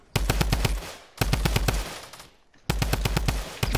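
Rapid machine gun fire in a video game, loud and close, three sustained bursts with a short pause before the last, each made of evenly spaced sharp shots.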